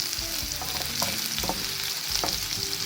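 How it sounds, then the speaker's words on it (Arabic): Garlic, onion and green pepper fry in a pan, a dense close sizzle broken by a few scraping strokes of a spoon stirring the vegetables, with no voices. "ثومة، بصل، فلفلة خضراء. بنحرك المكونات"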